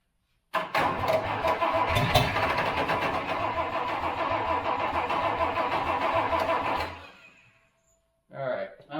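A Toyota FJ40 Land Cruiser engine cranks and catches, running loud and close for about six seconds with a rough, uneven idle before cutting out, then briefly turning over again.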